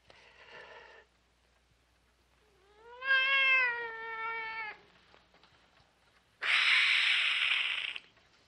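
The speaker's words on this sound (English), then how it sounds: "Kitty, what's the matter?" A cat meows several times in close succession. A drawn-out, rising and falling meow is followed by a harsher, breathy caterwaul, heard clearly against a quiet room with no talking.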